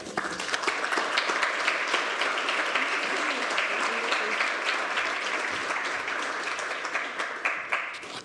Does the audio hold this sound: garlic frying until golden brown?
no